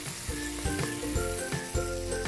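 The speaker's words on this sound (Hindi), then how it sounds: "कीमे को हमें मेक श्योर करना है कि हम अच्छे तरीके से भून लें।" Minced meat keema fries in a pan with chopped tomatoes and spices, a continuous close sizzle broken by regular soft knocks of stirring.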